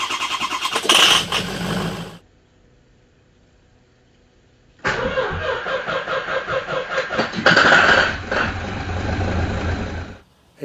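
A 2003 Ford Powerstroke 6.0L diesel cranks and fires in two separate starts, each a loud burst of starter whir turning into a running engine note, with a silent gap of about two and a half seconds between them.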